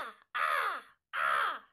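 A human voice imitates a crow, giving three harsh, descending caws separated by short pauses, close and clear with no other sound.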